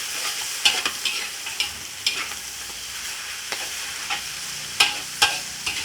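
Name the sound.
stir-frying noodles for pad see ew over high heat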